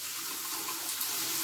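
Water runs steadily from a kitchen tap into a kettle as it fills, a continuous hissing splash heard close up with no talking.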